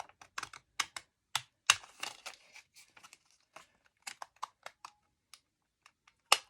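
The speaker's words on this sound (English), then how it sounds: "I'm just gonna do my best to cut as straight as I can." Scissors snip through paper for a decorative edge in a string of short, crisp cuts, some quick and some spaced out, with faint rustling of paper between the close, quiet snips.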